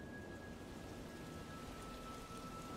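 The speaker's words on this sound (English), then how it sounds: "Is she making it rain?" Steady rain falls in a cartoon scene, a dense, even hiss that holds at a constant level throughout, with no voices over it.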